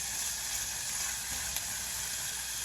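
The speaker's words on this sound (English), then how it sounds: "We're going to fry the chickpeas in a little bit of that" Canned, unrinsed chickpeas frying in olive oil give off a steady, bright sizzle that hisses evenly throughout, close up and unbroken by talk.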